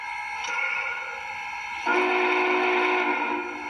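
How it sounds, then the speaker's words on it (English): A model train whistle sounds in two steady tones, the second louder and fuller, blowing continuously for a few seconds without talk. "Watch the whistle."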